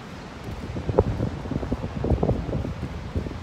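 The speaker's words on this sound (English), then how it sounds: "But it's very windy." Gusty wind buffets the microphone at a beach in uneven, rumbling bursts, rising and falling without any talking.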